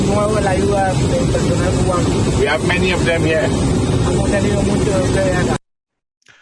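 A loud jet engine roars nearby, a broad steady rush that masks someone speaking over it, before the sound cuts off abruptly.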